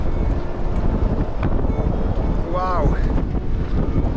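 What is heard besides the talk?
stormy wind gusting at a harbour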